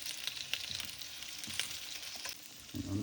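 Potatoes fry and sizzle in a pan after being flipped to brown the other side, a close steady crackle with a few light stirring knocks and no talking.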